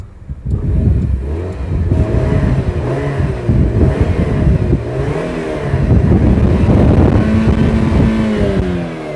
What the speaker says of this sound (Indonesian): Nah, mesinnya mobil ini kalau masih original itu renyah dia. Suaranya kering.